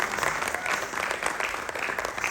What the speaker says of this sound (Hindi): जोरदार ताली नन्हे प्रतिभागी के लिए।